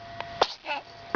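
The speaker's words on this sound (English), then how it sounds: "Did you sneeze on that?" A baby boy sneezes up close, a short sharp burst after a couple of small breathy catches, brief and moderately loud.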